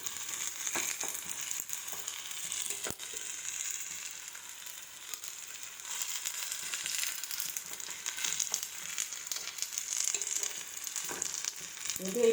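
Pumpkin flower fritters fry in oil over a medium flame, giving a steady, close sizzle with soft crackles and a few small stirring clicks, no voices.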